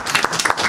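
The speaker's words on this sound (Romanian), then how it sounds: "Poetă care merită aplauze." Audience applause for a poet at a book and magazine presentation marking 20 years of the Bacău branch of the Romanian Writers' Union, a dense, fairly loud burst of many hands clapping with no talk over it.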